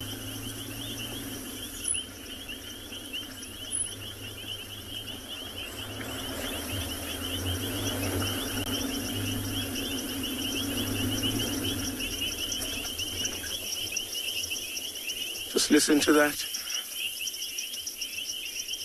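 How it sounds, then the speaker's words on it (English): A dense chorus of many frogs calls at night in the Kalahari bush beside a rain-filled pen, a continuous high trilling wash heard from a moving vehicle, with a brief spoken remark and a short louder burst near the end. "you can hear where we're driving now, the noise of all these frogs."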